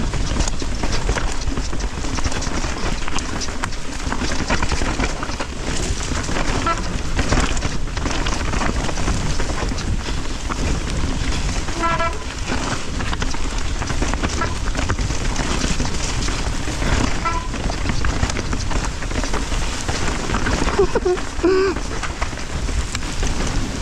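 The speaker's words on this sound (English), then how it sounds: "Is it hailing? That's hail." Hail pelts down steadily during a mountain thunderstorm on a bike trail at Killington, a dense continuous rattling roar with no break, and faint voices now and then.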